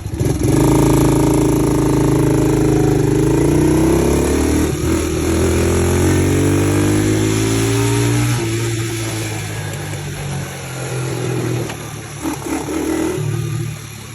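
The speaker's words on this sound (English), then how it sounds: "Got it back up and running off a jump start." A 125cc ATV engine runs after a jump start, loud and close, its revs rising and falling through the clip with no talk over it.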